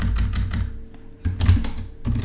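Keys on a computer keyboard are tapped in quick bursts up close, with a short pause in the middle and a dull thunk of a keystroke here and there.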